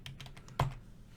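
Keys tap quickly on a computer keyboard close by, a short run of light clicks ending in one louder keystroke.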